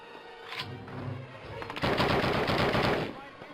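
Machine gun fire in the Call of Duty video game: a short early burst, then a sustained rattling volley of rapid shots, loud and close.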